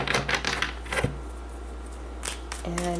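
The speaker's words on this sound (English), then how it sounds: "So I'm just going to give the cards a shuffle." A tarot deck is shuffled by hand in short bursts of riffling, snapping card noise, close and fairly loud, with pauses between the bursts and a low steady hum underneath.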